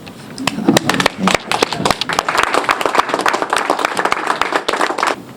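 Audience at a Pan African dialogue event gives a round of applause, dense clapping that is close and loud and keeps going the whole time, with no voices over it.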